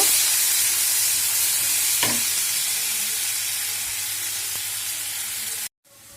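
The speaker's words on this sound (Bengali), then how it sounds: "পেঁয়াজ, গোটা রসুন, পেঁয়াজটা একটু লাল লাল করে ভেজে নেব।" Sliced onion and whole garlic cloves fry in hot oil in a pan, giving a loud, steady, close sizzle and hiss with a faint clink near the two-second mark before the sound cuts off abruptly.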